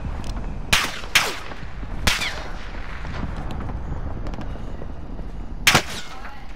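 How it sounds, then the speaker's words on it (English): Gunfire in Call of Duty: Modern Warfare, several sharp, loud close shots in an irregular sequence with a couple of quick double cracks, set over a steady background of game ambience. "Taking fire! Crap, I'm getting lit up."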